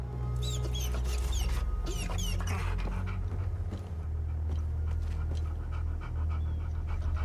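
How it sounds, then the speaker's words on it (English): A puppy pants steadily and lets out high whimpers, close and fairly clear over a low steady hum. "I found the poor pup whimpering alone in a house."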